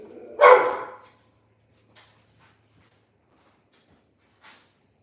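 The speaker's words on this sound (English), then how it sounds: "I gotta go let the dog in real quick" A dog gives a single short, fairly close bark, followed by near silence with a steady faint insect drone and a few small scuffs.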